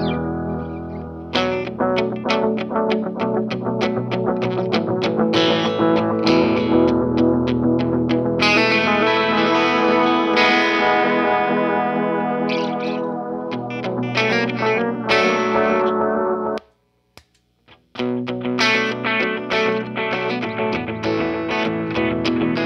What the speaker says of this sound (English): Let's turn on some overdrive, see how these pedals sound with some overdrive